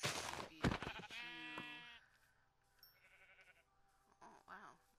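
A sheep bleats several times in Minecraft, quick wavering calls, fairly close, with brief game sound effects around them.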